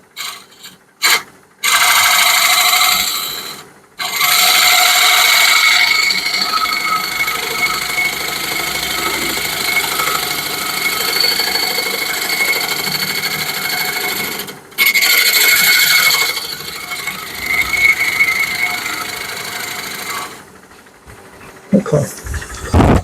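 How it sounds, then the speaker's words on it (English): A woodturning tool shear-scrapes a spinning piece of wood on a lathe, a steady, loud raspy rubbing that runs in long stretches with a few brief breaks and drops out near the end. "Do a shear scrape."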